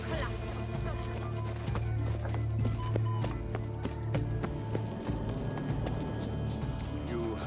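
Horse hooves clip-clop at a steady trot in the video game The Witcher 3, continuous and clear under game music and voices talking.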